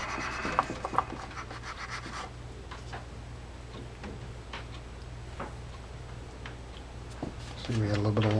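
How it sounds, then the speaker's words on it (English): Steel wool scrubbing the shaft of a Mitchell 304 freshwater spinning reel: a continuous close, scratchy rubbing with small ticks throughout, and a brief voice or hum near the end. "Grab the steel wool, clean off that shaft."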